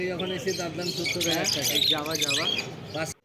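Caged lovebirds and finches at a bustling bird market squawk and chirp loudly and continuously, harsh overlapping calls filling the air while someone speaks over them.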